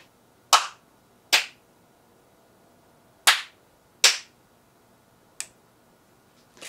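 Five sharp hand claps, spaced irregularly with quiet pauses between them, ringing slightly in a room and sounding moderately distant.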